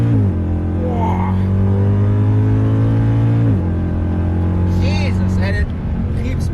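A Mercedes W204 C63 AMG pulls hard on a track, its engine note droning loud and steady inside the cabin, then dropping at a gear change before climbing again, with a voice exclaiming over it.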